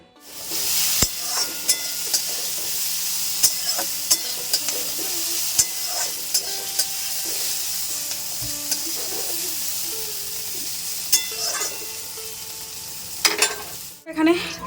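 Pointed gourd frying in a pan, a constant loud hiss of sizzling oil over nearly fifteen seconds, broken by scattered crackles and the clack of stirring, with faint talk in the background.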